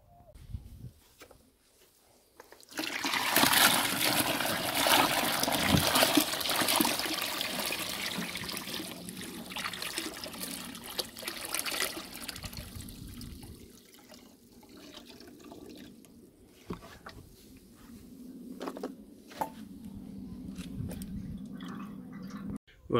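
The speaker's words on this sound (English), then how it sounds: "We'll get the hose on this." A hose running water into a tank during a solar hot water experiment, a steady rushing splash that starts after a quiet few seconds, then eases into a lighter trickle with occasional clunks.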